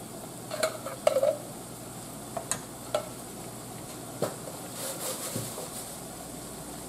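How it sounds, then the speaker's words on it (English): Undrained diced tomatoes tipped into a hot pan for a spaghetti sauce give a soft sizzle, with a few sharp scrapes and clicks of a spoon stirring, quiet and close with no talking. "let's go ahead and add in our undrained diced tomatoes"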